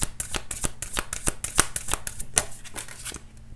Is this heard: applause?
no